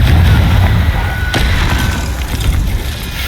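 A Confringo spell explodes in the game Hogwarts Legacy, producing a loud, booming blast with a heavy low rumble that rolls on and slowly fades over a few seconds.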